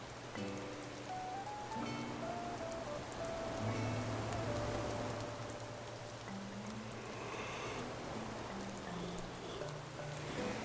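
Steady rain falling in Animal Crossing: New Horizons, a continuous soft patter heard alongside gentle in-game musical tones, with no talking.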